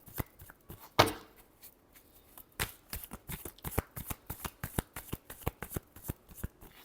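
Tarot cards being shuffled by hand, a close, crisp run of rapid riffling and slapping with one louder snap near the start, quiet and with no talking.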